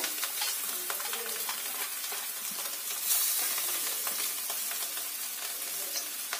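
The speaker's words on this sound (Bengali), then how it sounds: "আর এবার এতে দিয়ে দেব সিদ্ধ করা চাউমিনগুলো।" Boiled chow mein noodles fry and get stirred in hot oil, a steady close sizzle with scraping stir strokes throughout and a brief brighter hiss of steam midway.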